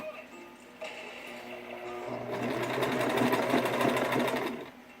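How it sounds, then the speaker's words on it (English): A sewing machine stitching a ladies' all-in-one undergarment, starting with brief slow stitches and then running in a fast, steady mechanical whir for a couple of seconds before stopping, with a television drama playing faintly in the background. "Now we're going to do a little sewing here"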